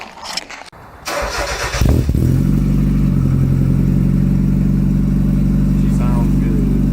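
A Mazda Miata with a newly fitted exhaust starts up and settles into a steady, loud idle, its low rumble running continuously at close range after a brief burst of clatter.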